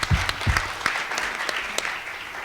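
Audience applause at a community-labor panel discussion, a mix of individual claps and a soft sustained patter, moderately close with a few sharper hits.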